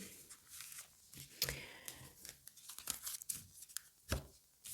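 Tarot cards being handled during a reading: faint, close rustles, slides and papery flicks coming in irregular bursts, with a few sharper snaps standing out from a quiet room.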